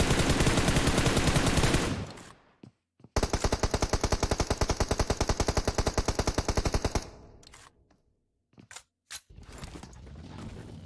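Rapid automatic gunfire from the mobile battle-royale game PUBG Mobile during a pro league match, loud sustained bursts of rattling shots with a brief pause, then a few scattered single shots after a near-silent gap.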